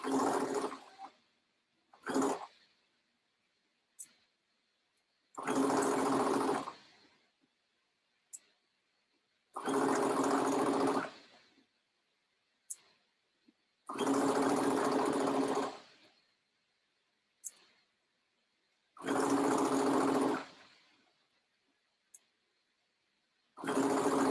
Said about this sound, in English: We want to stitch as close to those teeth as we can without actually stitching on top of them.